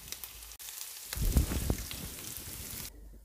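Tomato paste frying in a hot pan with other ingredients, a steady close sizzle that swells into louder crackling and spattering midway, then settles back to a softer hiss, no voices.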